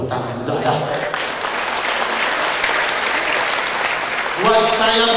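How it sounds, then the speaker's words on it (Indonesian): A seminar audience bursts into steady, dense applause that fills the room for several seconds, and a voice comes through near the end as the clapping carries on. "Tepuk tangan udah ya."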